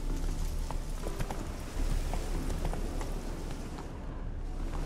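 Roach the horse gallops in The Witcher 3, steady rapid hoofbeats thudding under a continuous rumble of wind and ambient game sound.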